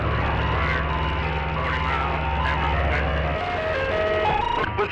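An ice cream truck's jingle plays outside as a steady, fairly loud melody of repeating tones over a low continuous drone, carrying on without talk for about five seconds.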